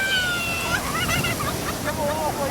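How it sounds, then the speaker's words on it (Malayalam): Ocean waves wash onto a beach during a family outing, a steady rushing surf with sloshing water close by and voices of people playing faintly mixed in. "നല്ല തിരയായിരുന്നു"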